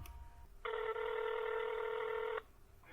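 A telephone dials out to call a guest over a phone line: one steady, loud electronic tone holds for about two seconds and stands alone between quiet stretches, with no talk.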